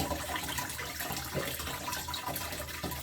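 Rushing water pours and gurgles steadily into the bowl of a Dometic SaniPottie 976 portable toilet, a close, continuous flushing flow with no voices.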